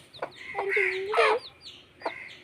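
A hen clucks close by in a short series of throaty, uneven calls, one drawn out in the middle, over a quiet background.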